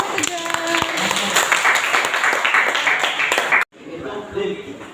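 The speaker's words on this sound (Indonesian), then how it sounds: "Beri tepuk tangan." Classroom applause from students during a guided teaching practice lesson, a burst of clapping lasting several seconds, cutting off abruptly and followed by a quieter room with faint voices.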